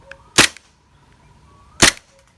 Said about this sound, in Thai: นี่ฮะสองนัดครับ